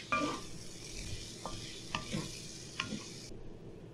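Onions and mushrooms fry in a pan with a steady soft sizzle, and a few sharp scrapes and taps come from stirring the food, close and fairly quiet.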